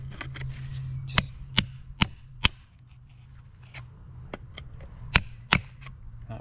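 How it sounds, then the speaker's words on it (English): A hammer strikes a bolster chisel to knock out stone pond edging during a pond renovation. Sharp, close metallic cracks land in uneven clusters of three or four over a steady low hum. "So now, hammer and bolster, one on that side"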